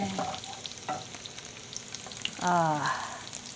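Garlic frying in oil for a tempering gives a low sizzle, with scraping stir strokes at the start and a louder pan clatter midway. A short voice is heard briefly.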